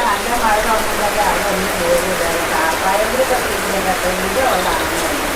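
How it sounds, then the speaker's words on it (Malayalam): Heavy rain pours steadily and loudly, a dense continuous hiss of drops on surfaces, with a person talking underneath. "എന്താ മഴ അടിപൊളി മഴ കേട്ടോ"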